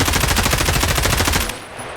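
Rapid automatic fire from an M4 rifle in Escape from Tarkov, a steady close burst of evenly spaced loud shots for about a second and a half, then cutting off into a ringing tail.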